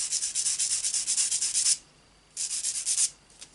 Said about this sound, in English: And sanding sponge actually works better.